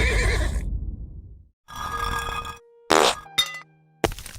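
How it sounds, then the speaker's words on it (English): An animated horse gives a neigh near the start, followed by a few short, sharp cartoonish sound effects separated by silence. "Dine with me, newfound horse friend."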